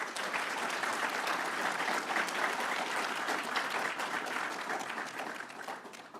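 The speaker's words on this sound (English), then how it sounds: "let's give a huge round of applause to our graduates" A large audience at a Metro operations graduation and promotion ceremony claps steadily and warmly, dense applause sustained throughout before beginning to taper off at the end.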